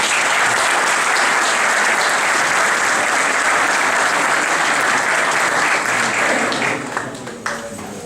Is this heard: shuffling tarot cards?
no